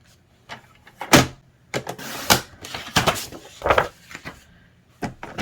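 Paper being cut to a 3-inch row for a Halloween matchbook candy holder, several sharp crisp slicing strokes with short pauses between them, close and fairly loud, alone without talk.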